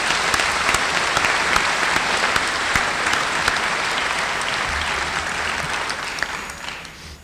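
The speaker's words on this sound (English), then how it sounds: "I'd really like to see a little round of applause go to ourselves and to those who've helped us along the way." A high school graduation audience bursts into sustained applause, a thick wash of many hands clapping at full volume that slowly eases off toward the end.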